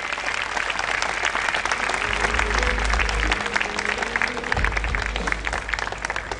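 Sustained applause from a school-day audience after a PYP student orchestra performance, dense steady clapping throughout with a low hum beneath and no talk.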